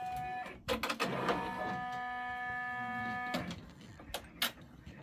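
A Brother embroidery machine stitches out a leaf tiling design, giving a steady mechanical hum with several tones and quick repeated needle clicks, and a few louder bursts of clatter come in near the start and toward the end.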